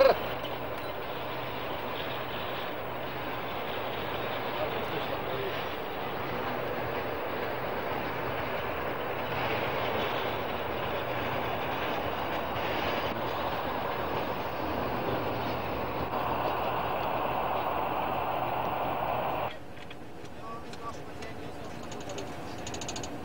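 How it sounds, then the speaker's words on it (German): A steam train losing engine power near Berga rolls to a halt, a steady rumbling mechanical roar that holds for a long stretch, then drops abruptly to a quieter hum. "Die Maschinenanlage bringt keine Leistung, der Zug kommt zum Stehen."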